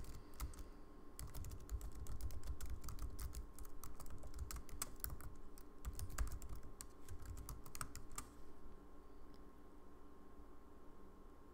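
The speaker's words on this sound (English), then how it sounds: "Now I can click down and start typing." Rapid clicking on a computer keyboard, with keystrokes arriving in quick irregular bursts for about eight seconds before stopping, close and fairly quiet, with no talking.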